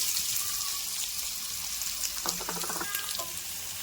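Chopped onions sizzle in hot oil in a pan, a steady bright crackle with a brief clatter of stirring midway. It stays fairly quiet and close, with no talk.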